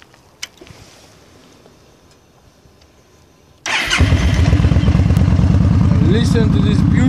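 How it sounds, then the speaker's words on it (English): After a few quiet seconds with faint clicks, a Yamaha Stryker motorcycle engine fires up abruptly and settles into a loud, throbbing, steady run. "I'm going to start the bike in a sec so you can hear it."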